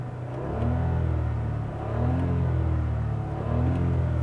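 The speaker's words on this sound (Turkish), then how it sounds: "Motor sesini duyuyor musunuz?" A 2016 Hyundai i20 Active with a 1.0 T-GDI turbo engine revs in three rising pulses, a low rumbling engine note swelling and easing back, heard steadily from inside the car without talk.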